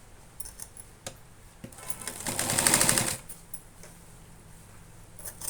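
A sewing machine stitches a folded seam on a cloth bag, a brief run of fast, rattling stitching of about a second amid scattered clicks and light handling noises, fairly quiet overall.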